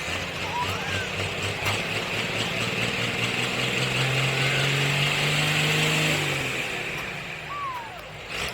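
A pulling truck's engine idles and rumbles steadily at a truck and tractor pull in Ardmore, Tennessee as it backs up, a low continuous drone with a slight swell midway, while a voice talks over it.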